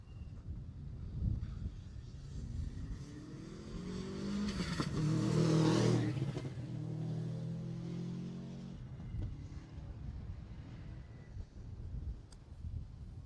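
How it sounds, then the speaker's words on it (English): Subaru Impreza rally car on a Jersey rally stage, its engine rising as it approaches, roaring loudly past at close range around the midpoint, then fading away into the distance. "So that's a Subaru Impreza, Chris Le Chevalier and Oliver Holmes in that one"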